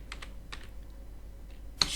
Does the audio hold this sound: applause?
no